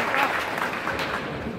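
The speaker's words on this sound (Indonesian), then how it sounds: "tepuk tangan untuk pasangan calon nomor" An audience at a regency election candidates' debate in West Lampung applauds a candidate pair, a brief, dense wash of clapping at moderate loudness that holds steady across the short stretch.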